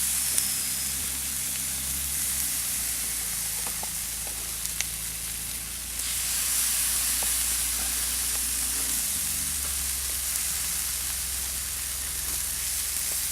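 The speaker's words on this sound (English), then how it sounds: "So we're going to get some big sizzle now. We're just going to chuck these on the fire." Chile chicken wings sizzle steadily on a hot grill fire, a continuous bright hiss with faint crackles and pops, close and even throughout with no talking.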